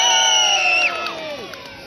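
An audience at an Edinburgh Fringe juggling show lets out a short, loud burst of cheering and whooping that quickly fades.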